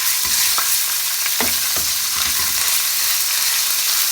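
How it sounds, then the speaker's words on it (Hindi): Crushed garlic and ginger frying in a pan for a dal palak tadka, a loud, steady sizzle with several scraping stirs of a spoon near the start, no talking. "अच्छे से इसको हमने फ्राई कर लेना है ताकि इसमें से कच्चापन चला जाए।"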